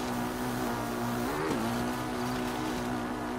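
A Hylian motorcycle engine in a Zelda video game hums at a steady idle and revs once briefly in the middle, constant and mid-level.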